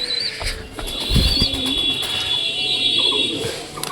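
Thin, high chirps from a young pigeon and Australian dove cross-breed chick repeat steadily and close by, with a few faint background noises.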